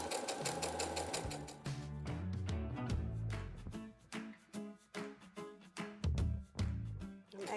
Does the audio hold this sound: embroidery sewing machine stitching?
yes